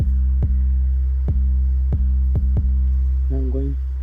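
Booming 808 kick drum with preamp punch, made in FL Studio: six deep, sustained hits with sharp attacks at irregular spacing, followed by a brief wobbling tonal blip near the end.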